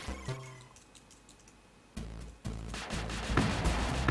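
Computer keyboard keys are pressed while a game is played on a ZX system, giving scattered soft clicks that grow busier as the game's sounds swell behind them.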